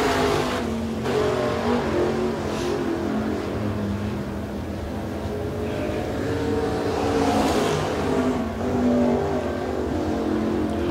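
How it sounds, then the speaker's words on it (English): A Sportsman race car on a one-lap qualifying run at Smoky Mountain Speedway, a continuous engine drone with rising and falling revs, moderately distant and steady for the whole stretch. "Next car to come out on the racetrack to qualify."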